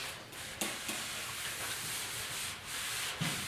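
Steady rubbing rasp of 40 grit sandpaper on the box of a 1956 Mercury pick-up, continuous hand sanding with a few sharper scrapes, close and alone without talk.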